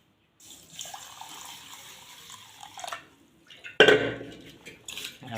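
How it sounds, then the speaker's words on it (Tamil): Water is poured into a pot for rice porridge in a home kitchen, heard as a few uneven splashing bursts, one strong gush near the end, with faint clinks of cookware. "தண்ணி ஊற்றிக்கிறோம்"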